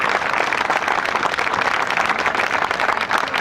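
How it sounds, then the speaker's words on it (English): An audience applauds the Carroll family at a Marine Park groundbreaking ceremony, steady dense clapping filling the whole stretch without a break. "Give them a round of applause for all of the great work that they do."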